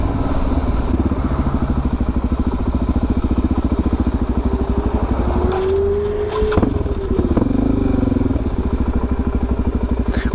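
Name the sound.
Suzuki DRZ 400 motorcycle engine revving while riding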